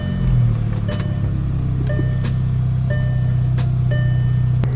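A Volkswagen car idles after an EPC-light cylinder misfire repair, holding a steady low engine rumble while a few short electronic beeps sound at regular intervals, with no one talking.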